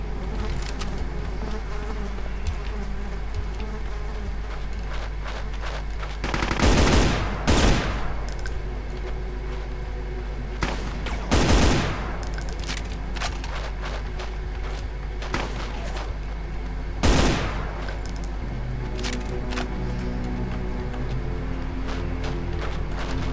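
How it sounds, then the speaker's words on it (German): Rapid gunfire from the Brutal Doom mod running FreeDoom II, arriving in three loud, crackling bursts over a constant buzzing, insect-like game drone. No talking. "Oh mein Gott, die wird scharf geschossen."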